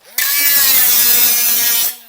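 An angle grinder grinds a piece of metal to check whether it is stainless steel, giving a loud, steady, high-pitched grinding whine that runs for nearly two seconds on its own before cutting off.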